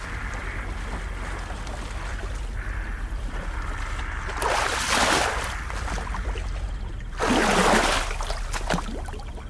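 Oars pull a small boat across a dark marsh at night, with two broad watery splashes standing out from a constant low rushing of water.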